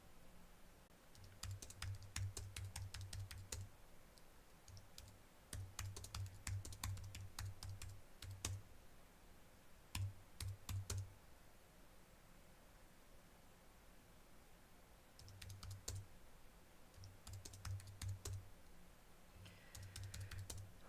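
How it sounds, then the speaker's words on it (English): Someone types on a computer keyboard in bursts of quick, soft key clicks separated by pauses, faint and close against a light background hiss, with no talking. "Right now, I'm typing something"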